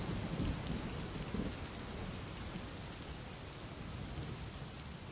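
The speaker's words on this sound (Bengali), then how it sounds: "আমরা অপেক্ষা করতে লাগলাম বৃষ্টি থামার।" Heavy rain pours steadily throughout, with deep rolling thunder rumbling beneath it, used as a sound effect in a Bengali horror-suspense story; no voices.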